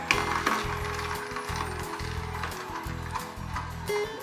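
A Hurom HH Elite DBE11 slow juicer runs while pressing oranges and red grapefruit, giving a loud, regular rhythmic grinding and clunking close by with a motor hum underneath.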